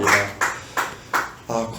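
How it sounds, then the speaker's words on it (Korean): A church congregation claps during a Sunday worship service, with a run of evenly spaced, fairly loud claps about three per second, mixed with a voice or singing underneath. "주님 앞에 영광의 박수 올려드리겠습니다."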